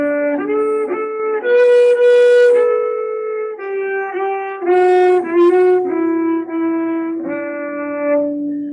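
A double bass bowed high on the neck plays a slow, sustained melody in a high register, smooth and close with a violin-like tone.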